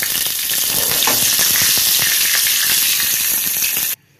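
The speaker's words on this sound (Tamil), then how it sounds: "கருவேப்பிலை சேர்த்துடலாம். பெருங்காயம் சேர்த்துடலாம்." Curry leaves and asafoetida hit hot oil already crackling with mustard seeds and urad dal, a loud, close, continuous sizzle for a bajji chili chutney tempering that stops abruptly.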